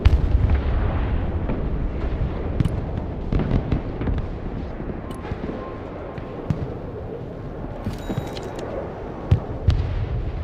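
Artillery fire and explosions strike tanks in the video game Broken Arrow: a dense barrage of booms, cracks and rumbling blasts layered over each other, loud and continuous, with sharper individual shots popping out now and then.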